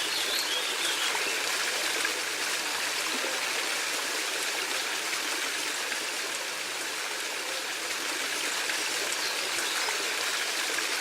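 A garden stream flows steadily with a bright, continuous babble and trickle of water, close and even throughout, with no voices.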